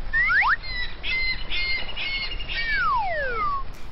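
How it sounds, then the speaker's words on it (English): Magpies squawk with loud, harsh calls and sweeping whistled squeals, several overlapping, close and continuous over a noisy background, with no voices. "Them magpies like shiny things."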